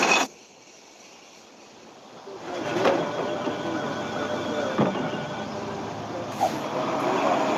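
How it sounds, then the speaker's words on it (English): Garbage truck on a city street: after a click and a quiet stretch, a loud rumbling engine rises and holds, with brief sharp clanks and a hiss-like burst near the end. "Garbage truck."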